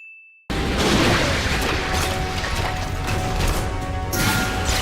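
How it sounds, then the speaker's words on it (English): Heavy, dense thudding impacts and crashes from an action scene in the Black Clover anime film Sword of the Wizard King, a loud rumbling barrage beginning abruptly after a brief high tone and continuing without pause. "Loving the heavy thudding sound effects too"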